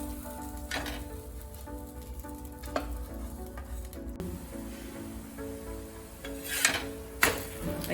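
A cucumber dhirde pancake roasts in a hot pan with a soft steady sizzle, occasional scraping and clinks of a spatula against the pan, close and moderately quiet.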